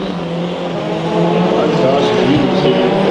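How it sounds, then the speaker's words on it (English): A high-power four-cylinder race car roars around a dirt speedway during heat races, its loud continuous engine note swelling slightly as it goes, with an announcer's voice carrying over the noise. "kicking up some dirt. in that high-power four-cylinder machine"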